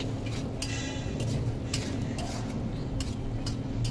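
Spice paste for Bengali rui macher kalia stirred and fried with a metal spatula in a pan, irregular light scraping clinks and ticks over a steady sizzle, close and moderate in volume with no talking.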